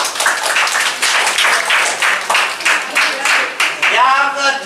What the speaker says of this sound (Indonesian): Oke, tepuk tangan untuk Nazar.